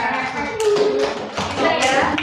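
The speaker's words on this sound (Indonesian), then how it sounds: "beri tepuk tangan buat Mbak siapa?" A classroom of students applauding a classmate, a short burst of dense, bright clapping that swells and fades over about two seconds, with voices mixed in.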